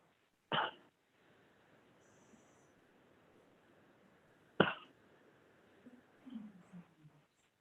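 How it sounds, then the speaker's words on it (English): A man on a remote town committee meeting call coughs twice, one sharp burst early and another about four seconds later, against a faint hiss of line noise with some soft murmuring near the end. "Kevin, we hear you coughing"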